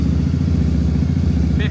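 A Royal Enfield Interceptor motorcycle engine idles steadily with a deep, throbbing low rumble, close and constant, with a brief higher tone near the end.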